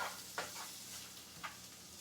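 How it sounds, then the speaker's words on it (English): Chopped onion sizzling in a hot pan for lobster risotto, a steady broadband hiss with a couple of brief swirling bursts as the pan is moved; no voices. "Then we're going to add our onion. Give it a swirl."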